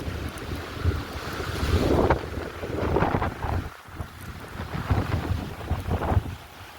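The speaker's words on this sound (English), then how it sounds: "it is super windy" Strong wind gusts up to 80 km/h roar against the microphone in surging waves, rising and falling loudly with brief lulls between blasts.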